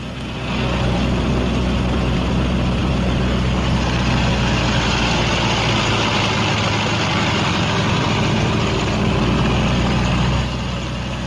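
Twin engines of a B-26 bomber run up together at high power, a loud, steady, dense roar that holds unbroken for about ten seconds and then eases slightly at the end.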